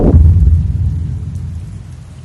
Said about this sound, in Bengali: গতকাল বিকেল থেকে শহরে প্রবল বর্ষণ চলছে